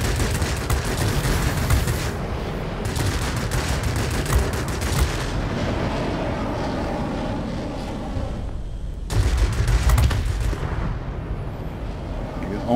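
Heavy .45-calibre aircraft guns pound in an air-combat video game, a dense, loud stream of booming shots and impacts that runs almost continuously, briefly dropping away before resuming.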